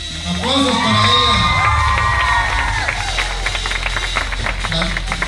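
A crowd at a quinceañera party cheers and shouts for a girl as she is called forward, loud high-pitched cheering with children's shrieks and whistle-like calls that peak early and settle into a lively crowd roar with some clapping.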